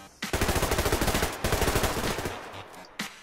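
Rapid automatic gunfire in the online shooter Survarium, loud and close, firing in two sustained bursts of quick regular shots with a single sharp shot near the end.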